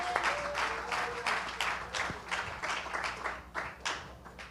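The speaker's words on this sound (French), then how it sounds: "Nous acclamons très fort." A church congregation applauding, with rhythmic clapping in loud bursts that swell and fade across the space, and a faint voice briefly over the clapping.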